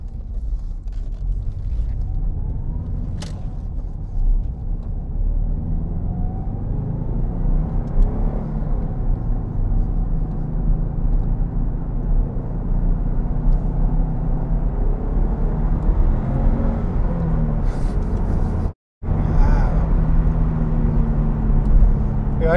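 A Subaru Impreza WRX STI Type R Version 3 engine drones and rumbles while driving on the road, with a steady low note that rises and falls gently over about twenty seconds, heard from inside the car.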